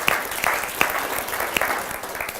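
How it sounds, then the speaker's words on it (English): An audience claps together in a steady, moderately loud round of applause with a few sharper individual claps standing out. "Give them a round of applause for sharing."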